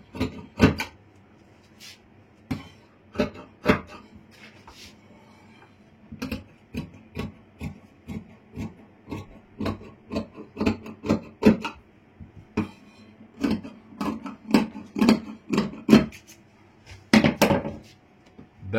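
Scissors cut fabric for an umbrella frock in a series of sharp, close snips. The cuts come in irregular clusters with short pauses and no talking.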